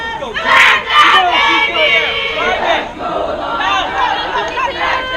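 Crowd at a 14u youth baseball tournament game, a loud close mix of cheering, shouting kids and chatter rising and falling throughout, with voices talking over it.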